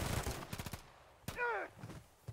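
Gunfire in the Modern Warfare III campaign, a rapid burst of close shots followed by a single loud report with a ringing metallic tail and another shot, with brief voice fragments mixed in.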